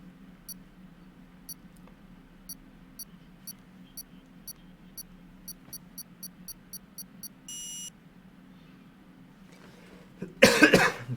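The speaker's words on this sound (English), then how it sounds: "Apologies that I'm still coughing a little." A person coughing while recovering from a cold, a short burst of coughs near the end after a quiet stretch with faint repeated electronic beeps and a low hum.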